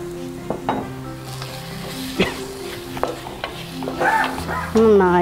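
Pineapple fish curry, Kerala style with tomato sauce, is stirred in a pan: soft sizzling under repeated scraping and clinking strokes of a spoon against the pan, with a louder hiss near the end.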